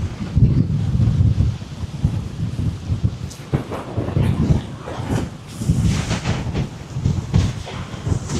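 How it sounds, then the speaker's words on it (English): Strong wind by the sea with waves, loud gusts buffeting the microphone in uneven surges, with low rumbling and crashing beneath and a few sharper bursts. "Now it's very windy down this side."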